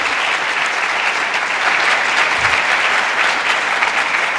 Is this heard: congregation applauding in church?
yes